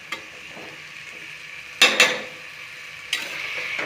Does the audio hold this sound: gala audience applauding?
no